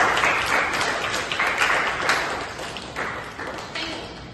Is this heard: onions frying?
no